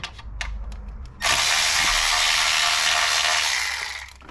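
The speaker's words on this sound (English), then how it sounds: "So let's start taking this bracket off. Take some screws off." Bracket screws coming off a Maserati Ghibli engine: a couple of soft clicks, then a loud, steady whir of a power driver or ratchet spinning for a few seconds before it winds down.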